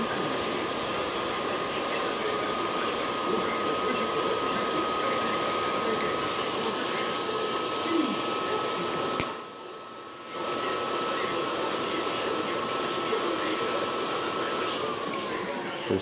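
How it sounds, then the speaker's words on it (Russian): Blower fan running on a solid-fuel long-burning boiler, a steady broadband whoosh with a faint hum, briefly dipping and cutting out midway before resuming. "Вентилятор у нас работает."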